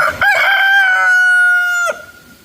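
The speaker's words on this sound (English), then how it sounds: "We have 5 chickens." A backyard garden chicken lets out one loud, close crow, a drawn-out tonal call lasting well over a second, with faint clucking around it and no talk.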